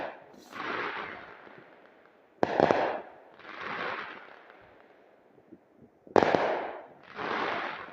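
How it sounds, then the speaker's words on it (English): New Year's fireworks bursting outdoors at Porters Lake, two sharp loud cracks each followed by long rumbling, crackling tails that fade, with more distant pops and booms between. "Let's stand back and listen to the fireworks."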